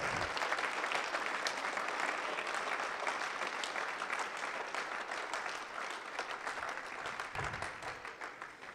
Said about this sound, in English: So please, a big round of applause for Mayfair for hosting the event.